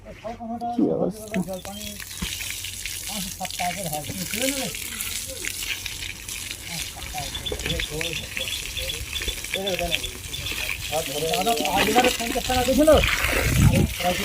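Water runs and splashes while tools are rinsed at a concrete casting site, a continuous gushing wash with occasional rattles, heard under people talking nearby.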